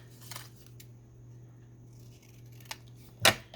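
Scissors snip once, sharp and close, while a picture is trimmed to fit a cardboard frame made from a coin collector holder, after a quiet stretch with faint handling.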